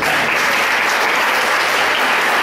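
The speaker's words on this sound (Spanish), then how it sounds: "Den un aplauso al Padre Matías." Congregation applauding inside a church service, a dense, steady wash of many hands clapping at close range throughout, with no gaps.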